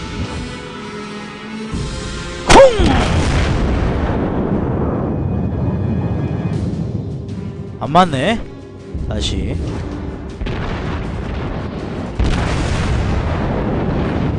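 Battleship main guns firing in the naval combat game World of Warships: a sharp, loud boom, then further rumbling blasts and bursts, with someone talking throughout.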